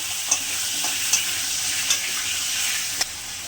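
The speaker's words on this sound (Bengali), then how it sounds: "পরে আলু কাঁচা কলাটা দিয়ে দিলাম একটু ভেজে নেবো" Potato and raw green banana fry in hot oil seasoned with dried red chillies and nigella seeds, a steady close sizzle broken by four sharp utensil knocks as the pieces are stirred.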